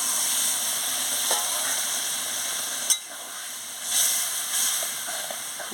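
Ridge gourd and poppy seed curry in a pan gives a steady bright hiss and sizzle, with a brief sharp splash near the middle and a louder surge of steam a second later, no voices.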